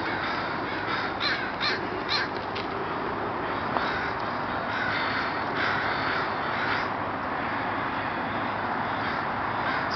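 A crowd of crows caws continuously at a noisy outdoor spot in Burnaby, British Columbia, with harsh calls overlapping and repeating steadily throughout, fairly close and loud.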